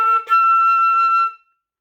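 A clear, high flute note, an E above the staff, held for just over a second, briefly re-tongued near the start, then cut off into silence.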